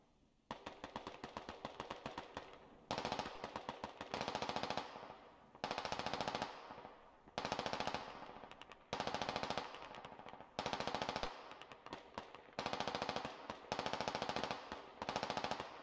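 Sustained machine gun fire with tracers in the video game Squad, loud repeated automatic bursts of a few seconds each, separated by brief gaps.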